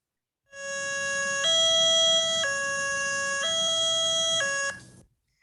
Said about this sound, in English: It's a very distinct sounding siren that we only use during evacuations.